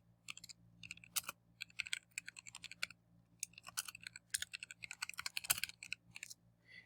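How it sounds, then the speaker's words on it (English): Quiet typing on a computer keyboard as a page title is entered, with irregular bursts of light key clicks over a low steady hum. "let's type in a title to keep things organized."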